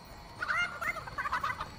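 Chicken in the Fortnite video game clucking and gobbling in short, choppy bursts of bird calls, close and fairly loud over a quiet background.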